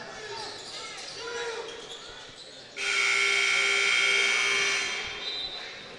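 Loud electronic buzzer ending the third quarter of a basketball game between Portsmouth Sports Club and Jani-King, a sustained tone lasting about two seconds over arena crowd noise and commentary.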